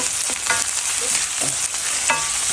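Chicken and rice fry in a pan while a ladle stirs and scrapes through them, giving a steady close sizzle broken by a few sharp scraping strokes; no one speaks.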